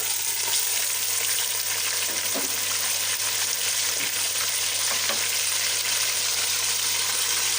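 Beef sizzles with ginger and garlic in hot ghee for nihari, a constant loud crackling fry close up, broken by a few soft stirring clinks and no talking.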